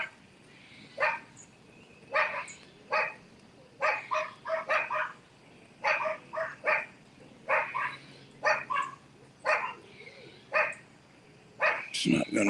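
Dogs bark repeatedly in short, sharp bursts, an irregular string of yaps at moderate distance over faint background noise.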